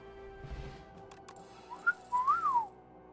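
A person whistles a short tune over quiet background noise during play of the card game Slay the Spire 2, with a brief rising note and then a longer wavering phrase near the end.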